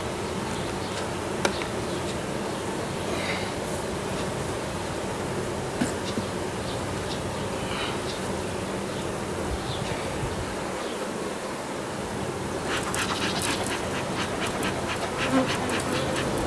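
Honey bees buzz steadily around an open, strong hive while a honey super is added, a dense continuous hum close by, with faint clicks and handling noises toward the end.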